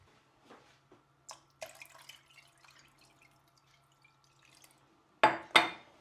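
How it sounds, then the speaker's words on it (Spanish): Water is added to a chicken soup pot in a kitchen. Faint drips and taps lead up to two brief, louder sloshing splashes at the end. "y le voy a añadir agua más o menos hasta 3/4."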